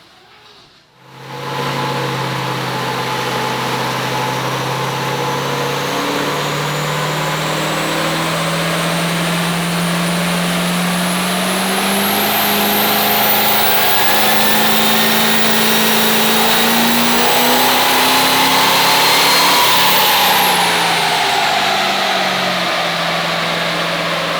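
A twin-turbo VP44 Duramax diesel pickup, around 700 horsepower, roars through a long dyno pull. The loud, steady engine drone climbs in pitch with rising turbo whine, then eases off near the end, with no talk.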